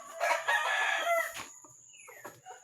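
Pet chickens kept under banana trees in Cavite cluck and squawk up close in a brief burst, with a rooster's crow trailing off afterward; no one speaks.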